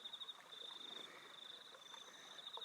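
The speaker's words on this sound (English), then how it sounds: "listening to the frogs and the crickets and the little morning birds" Frogs and crickets beside a creek in the Uluru heartlands at morning, a faint steady high insect trill running throughout over soft, scattered croaking, distant and calm with no voices.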